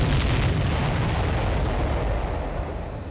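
Continuous rumbling explosions in the combat flight game Ace Combat 7, a loud, dense, sustained roar of blasts with no talking, easing slightly toward the end.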